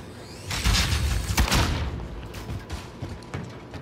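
Explosive blasts in a Call of Duty: Modern Warfare match: a loud, close frag grenade detonation with a deep boom and rumbling debris, followed by further thumps and distant gunfire bursts.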